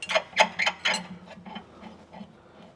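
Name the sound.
loosening locking bolts by hand on Subaru rear suspension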